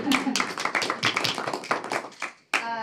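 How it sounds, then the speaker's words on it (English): Scattered hand clapping for a marketing team at a state parks and trails board meeting, a small group tapping unevenly with voices mixed in, briefly breaking off before resuming. "they deserve a round of applause for sure"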